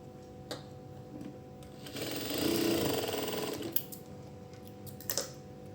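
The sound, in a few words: sewing machine stitching cross-cut fabric piping pieces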